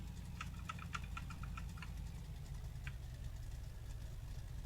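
A Ford F100 truck engine idles in a modded video game garage, a low steady rumble at a constant pitch, quiet and even throughout, with a few light clicks or ticks over it early on.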